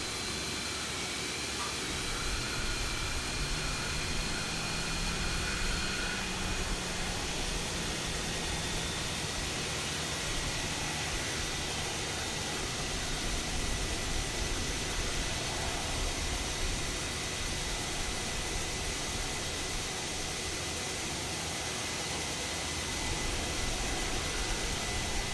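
Airbus A321neo jet engines running in the X-Plane 12 flight simulator, heard from an external view as a steady, broad, dense roar that holds level for the whole stretch with no voices over it.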